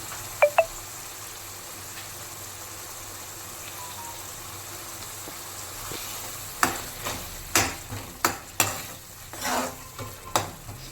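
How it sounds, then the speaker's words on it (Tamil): Tomato and coconut paste being stirred in a sizzling fish curry pan, a soft steady fry at first, then a series of loud, rhythmic scraping spoon strokes across the pan in the second half. "நல்லா மிக்ஸ் பண்ணி விட்டுனேங்க"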